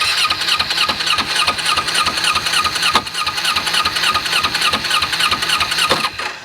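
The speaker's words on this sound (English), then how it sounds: "I think that racket you're hearing is the transmission" A seized Kawasaki Ninja 250R motorcycle engine turned over by its starter on a jump box, a steady loud mechanical churning with a rapid rhythmic clatter and rattling racket from the transmission, close up.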